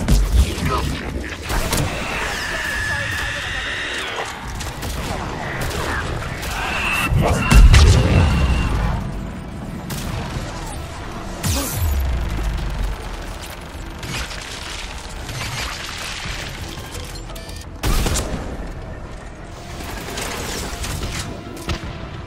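Missile salvo explosions in the Mass Effect 3 mission "Vendetta", with dense rumbling booms and mechanical clatter, a heavy low blast swelling around the middle and another sharp burst near the end, with voices talking over the battle.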